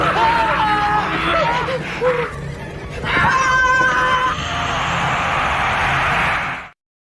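A woman screams in a horror film scene, with shrill, wavering cries that rise in pitch. The screams are mixed with noisy, dramatic film sound that swells and then cuts off abruptly at the end.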